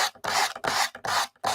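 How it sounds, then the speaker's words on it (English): A sanding block rubbed along the edges of a canvas in four quick rasping back-and-forth strokes, close and loud, each scrape separated by a brief pause, with no voices over it. "Let me see if I've got a better sanding block."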